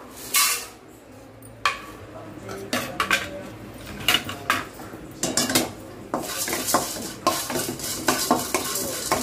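Cardamom pods dry-roasting in a pan over a low flame, with rattling, clinking spoon-and-pan scrapes and taps coming in irregular bursts, close up, and a faint background hiss.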